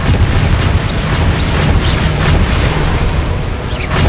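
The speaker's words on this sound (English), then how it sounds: "Confringo." Confringo fire spell exploding in Hogwarts Legacy: a loud, dense, continuous roaring blast with rumbling low end and a few sharper bursts, filling the whole moment with no talk.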